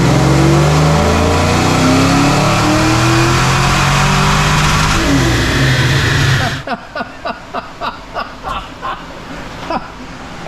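A 347 stroker engine in a Foxbody roars at sustained high revs on a dyno for over six seconds, then cuts back to a rhythmic series of sharp, evenly spaced bursts as it settles.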